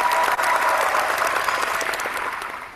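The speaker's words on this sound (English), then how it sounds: "Let me give you a round of applause." A round of applause from a crowd on a sports playoff preview show, steady and fairly loud hand clapping throughout that fades slightly toward the end.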